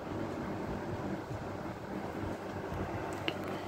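A vintage Pencrest model 9721 electric fan motor runs with a steady, low whirring drone and airy rush, continuous and close.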